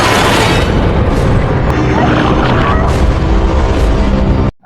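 A flare gun fired at a shark's face in a film scene: a loud, sustained booming blast with heavy low rumble that holds for over four seconds before cutting off abruptly.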